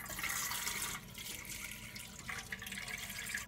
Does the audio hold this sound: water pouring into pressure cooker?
yes